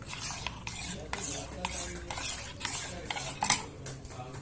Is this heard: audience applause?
no